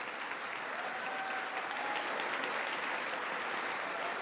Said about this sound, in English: What's with all the fucking clapping?